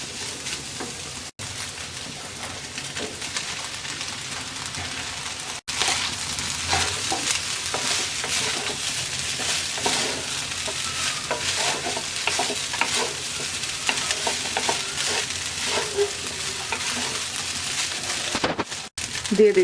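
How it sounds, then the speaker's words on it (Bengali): Cooked rice stir-fried in a hot pan for chicken vegetable fried rice, a continuous oily sizzle with repeated scraping and tossing strokes of a spatula, close and steady throughout. "তিন মিনিট ভেজে নেওয়ার পর এবার আমরা রাইস দিয়ে দিচ্ছি"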